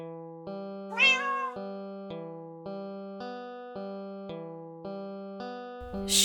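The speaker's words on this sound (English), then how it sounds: "if this place is abandoned, that kitty might get hurt" A Minecraft cat meows once near the start, a bright, rising and falling call that rises over a steady tonal music bed, which keeps pulsing alone around it.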